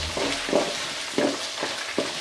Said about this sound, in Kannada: ಬಟಾಣಿ ಕೂಡ ಸ್ವಲ್ಪ ಹಸಿ ಸ್ಮೆಲ್ ಹೋಗೋ ಗಂಟ ಫ್ರೈ ಮಾಡ್ಕೋಬೇಕು.